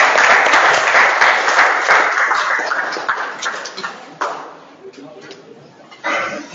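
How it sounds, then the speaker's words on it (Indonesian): A classroom of students claps for a classmate, loud and dense at first, then thinning into scattered claps that fade, with a brief burst near the end. "Oke, kasih tepuk tangan untuk Mertadana."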